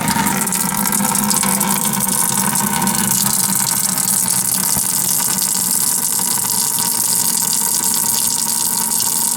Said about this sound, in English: this pops out like so, and we start draining.